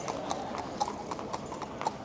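Racehorse hooves clip-clop at a steady brisk rhythm during morning trackwork, distant and soft under a constant broadband background wash.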